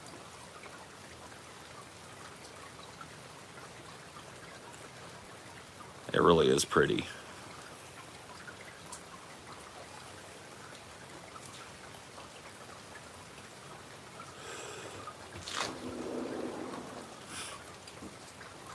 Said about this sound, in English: You can hear the drops of rain hitting the trees and then dripping off of the trees.